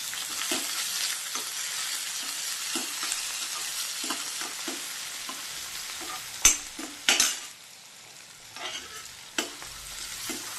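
Rava upma stirred in a hot pan sizzles and scrapes close up, a steady frying hiss with irregular spoon strokes against the metal and a few sharper knocks near the end.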